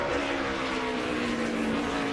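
Several NASCAR stock cars race at Sonoma, engines droning in a steady, loud, sustained roar with a strong tonal whine and no pauses.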